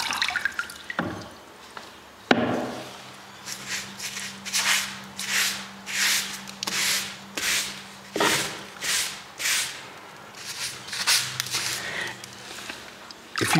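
Steel trowel spreading a wet Victorian plaster skim coat across a wall, giving a rhythmic series of smooth scraping, wet rubbing strokes, each swell lasting about a second, close and fairly loud with no talking.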